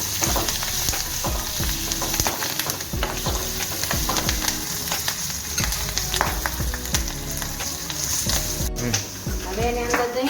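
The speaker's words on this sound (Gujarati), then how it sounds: "એકદમ આને હલાવવાનું." Kathiyawadi-style stuffed fenugreek chillies fry and sizzle steadily in a pan over high heat while being stirred, with loud, close crackling and clattering scrapes throughout. A voice is faintly present under the frying.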